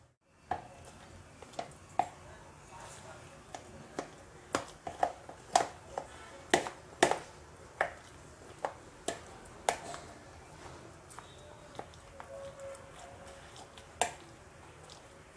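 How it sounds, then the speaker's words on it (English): Cooked eggplant being mashed with a masher or spoon in a kitchen, giving a long run of irregular soft taps and squishy knocks against the bowl, fairly close, with no talking. "Now you have to mash this nicely."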